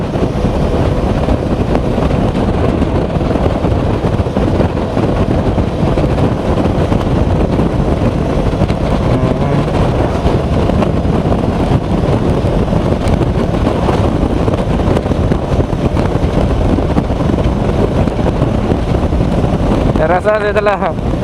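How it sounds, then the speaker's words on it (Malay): A strong crosswind roars into the microphone of a motorcyclist riding a Yamaha RXZ between Tawau and Kunak in Sabah, a loud, constant buffeting rush that drowns out any engine detail for about twenty seconds. "Oke, angin lintang nampaknya sekarang."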